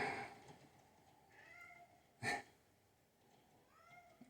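A cat meows a few times, a longer cry near the start and shorter mews later, with one sharp louder sound in the middle, fairly quiet overall.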